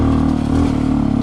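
A big-bore Honda CT125 motorcycle engine labors in first gear at quarter throttle up a steep, rough off-road section, a close, loud, steady thrum with a slight rising pull and no talking.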